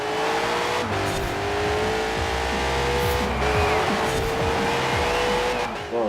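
A Hot Wheels Twin Mill races in Forza Horizon 4, its engine droning steadily with pitch shifts through the gears while tires squeal continuously, loud and close throughout.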